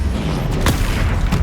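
Spell blasts from Bombarda and Confringo in the Hogwarts Legacy video game land as a dense, rumbling boom with a sharp crack in the middle and another burst near the end, all over busy game noise.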